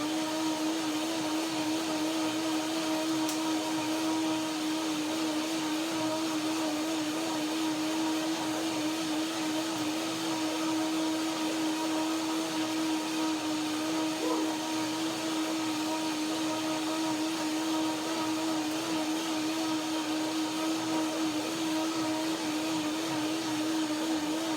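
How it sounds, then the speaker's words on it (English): A blender runs steadily for the whole stretch, whirring through pear and kiwi pieces in cashew cream with a loud, even motor drone and no talking. "And now one more blender dance."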